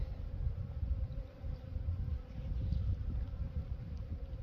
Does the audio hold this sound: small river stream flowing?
no